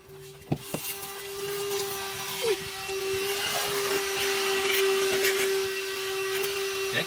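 A VacLife VL726 handheld vacuum cleaner runs with a steady, fairly quiet motor hum and a constant tonal whine, a couple of light knocks near the start.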